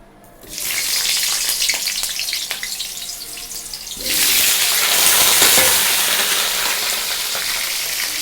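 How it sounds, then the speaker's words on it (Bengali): Potatoes hit hot oil in a wok with a sudden loud sizzle. Partway through, a louder surge of frying takes over, then a dense, continuous crackle carries on close by. "আলুটা ভেজে নিলাম আলুটা ভেজে নিচ্ছি প্রথমে"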